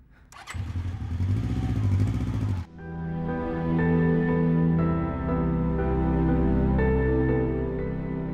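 A motorcycle engine revs loudly and close for about two seconds, then cuts away abruptly into a sustained, tonal engine drone that holds steady as the bike rides off, with no voices.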